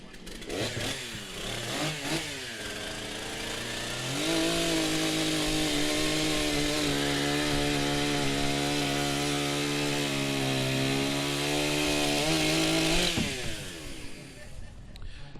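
Petrol chainsaw at a STIHL TimberSports competition cutting a wooden block to square its face, revving up and holding a loud, steady, close whine for about ten seconds before winding down.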